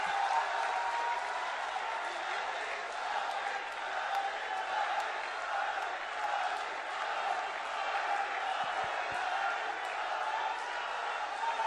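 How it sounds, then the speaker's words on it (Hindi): Steady applause from a large crowd at a public event for the chief minister in Vrindavan, a continuous dense clatter of clapping with a few whoops, sustained and even throughout. "जोरदार तालियां"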